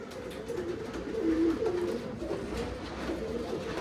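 Old line pigeons offered for sale in Bangalore, cooing in a low, soft, warbling murmur that continues steadily throughout, close and clear.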